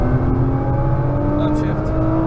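A Nissan GT-R Nismo held at full throttle, its engine a steady, loud, close drone with a strained tone, while a voice talks over it.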